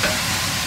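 Cooking wine hits a hot frying pan holding hare for a Szechuan dish, setting off a loud, dense, continuous sizzle for under a second.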